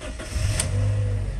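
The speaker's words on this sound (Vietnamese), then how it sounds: "Đây em sẽ mở máy cho các bác xem phần máy của nó này." A 2007 Toyota Innova G car engine starting and running, giving a steady close-up low rumble that holds without a break.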